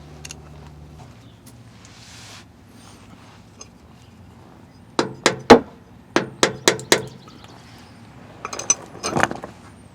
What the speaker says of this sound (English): going to be using a standard head screwdriver and rubber mallet to very gently separate the differential cover from the differential